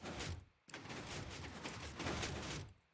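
A Minecraft redstone hipster door fires and retracts in-game, giving a rapid, dense clatter of mechanical clicks in two bursts split by a brief gap, fairly faint and with no talking.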